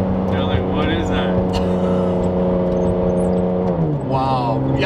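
Straight-piped Ferrari Enzo driving around, its loud whining exhaust and engine note holding steady and shifting pitch near the end, with people talking over it.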